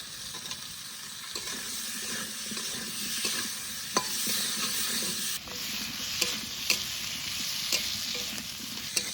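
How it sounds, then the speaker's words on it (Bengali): Potatoes frying with salt and turmeric in a pan during village cooking, a steady close sizzle with hiss and scattered sharp clinks from stirring, no talking. "এবার আলুগুলো ভালো করে ভেজে নেবো"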